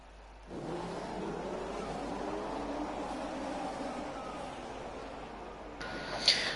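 Formula 1 race cars in a racing video game pull away on the formation lap, a steady, droning engine roar rising in at once and holding evenly, with a brief sharp click near the end.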